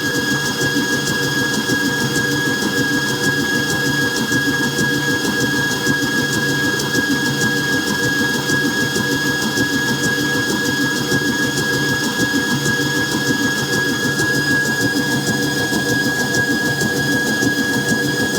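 A Hauswirt 5.3-quart, 11-speed digital stand mixer creams butter and sugar with a steady, continuous motor whir and a high whine, running alone at an even level throughout.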